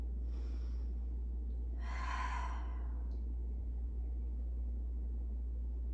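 A single long, airy breath near the middle, taken while holding a standing yoga pose with a gentle spine twist, over a constant low hum and otherwise quiet.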